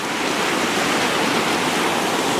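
A river rushing along a wooded riverside lot at the base of the Sangre de Cristo mountains, a broad steady roar of flowing water, loud and unbroken with no voices.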